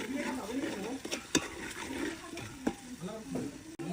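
A spoon stirs salt into chicken curry in a hot pan, giving close, uneven scraping strokes over a steady sizzle of frying spices.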